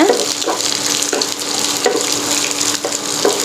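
Cubed onion sautéing with garlic in a hot pan for crispy baby corn chilli, a loud continuous sizzle broken by repeated stirring scrapes at an uneven rhythm.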